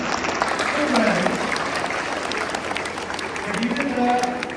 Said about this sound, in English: You can clap for all the students who are gone for this particular activity.